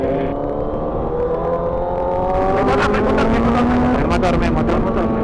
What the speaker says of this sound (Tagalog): May motor. May kotse, motor.